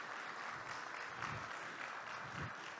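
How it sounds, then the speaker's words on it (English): An audience at a special evening celebration applauds, sustained dense clapping from a room full of people at moderate distance, with no talking over it. "a round of applause, please."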